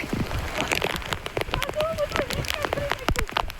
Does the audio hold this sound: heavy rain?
yes